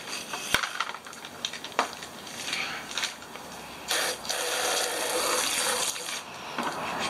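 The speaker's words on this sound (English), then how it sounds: "put a bit of water on it" Water is poured and splashed onto gold, with irregular gushing and trickling bursts plus a sharp knock near the start.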